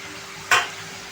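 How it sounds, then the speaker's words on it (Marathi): A single quick scrape and sizzle as chopped red amaranth leaves are stirred and tossed in a hot pan, one brief burst standing out over a quiet background. "संपूर्ण टाकून आपण हे मिक्स करून घ्यायचं आहे."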